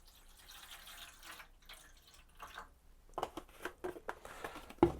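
Stop bath liquid trickles and splashes into a darkroom developing tray for black-and-white printing, a soft running pour that grows louder with sharper splashes toward the end.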